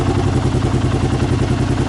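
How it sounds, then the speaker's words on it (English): A Kawasaki KLR 650 with a Mikuni carburetor, just tuned, idling a little high: an even, close, low chugging idle that holds steady throughout, with no talk. "the bike's actually idling a little bit higher than it was"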